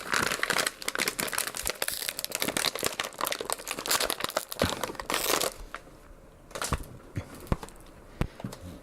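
A crinkly silver candy bag is squeezed and wrestled open, producing dense, close crackling and crumpling that thins into scattered sharp crinkles toward the end, with no speech.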